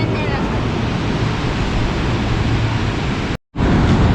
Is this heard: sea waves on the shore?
yes